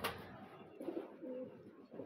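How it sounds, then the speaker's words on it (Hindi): A Salara pigeon coos in soft, low, repeated notes, close by and fairly quiet, with no talk. "सलारा कबूतर है"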